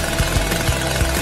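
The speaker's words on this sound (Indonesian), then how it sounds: "Oh, gergaji mesin. Itu pasti akan membantuku." A chainsaw in a video game runs in a steady broadband drone, with periodic low thumps knocking through the engine noise at a regular rhythm, loud and close throughout.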